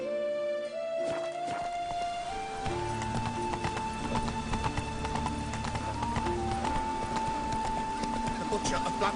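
Geralt's horse Roach trots in The Witcher 3, steady hoof clip-clops running through a continuous game soundtrack with melodic tones, and a brief whinny.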